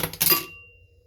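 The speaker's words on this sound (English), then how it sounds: "just dropped my mascara. Sorry about that loud noise." A dropped mascara tube hits a hard surface with a short, loud plasticky clatter of two or three quick bounces, then a faint ringing that fades within half a second.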